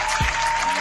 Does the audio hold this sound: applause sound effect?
yes